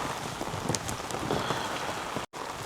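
Steady rain falls on an Everest trekking trail, a dense continuous hiss with scattered droplet spatters, loud and close, with a momentary break near the end.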